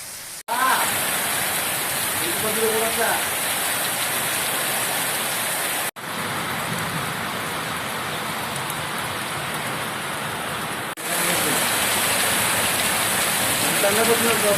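Heavy rain pours steadily in Nadigudem mandal, Suryapet district, a dense close hiss of rain on surfaces, with brief cuts between segments and faint voices in the background.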